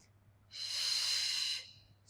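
One long close exhale breathed out audibly through the nose during a Pilates spine mobility exercise, soft airy rush lasting about a second before fading.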